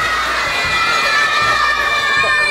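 A crowd of children shout and cheer loudly without pause during a magician's show in a martial arts gymnasium, a dense, bright wall of excited young voices.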